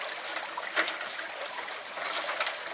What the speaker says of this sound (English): that should give us a little more water coming down into the grizzly